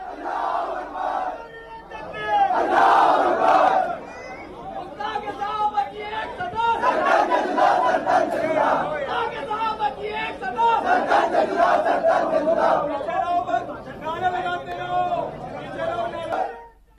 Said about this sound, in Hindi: इस दौरान सर तन से जुदा के नारे भी जमकर लगाए गए